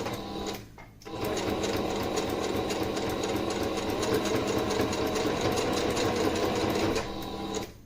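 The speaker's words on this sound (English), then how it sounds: "And I'm just sewing over top" A sewing machine stitches over the pleats of a fabric face mask, running in a steady, close, continuous whir after a brief pause near the start.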